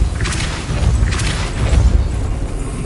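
Depulso force-push spell cast in Hogwarts Legacy, heavy low booming thumps with a rushing burst, loud and close, over a rumbling background.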